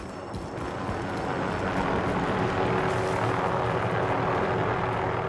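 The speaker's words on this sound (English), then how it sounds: "Somebody has a helicopter." A helicopter in the video game Call of Duty drones steadily throughout, a continuous rotor and engine rumble mixed with gameplay noise at a fairly constant loudness.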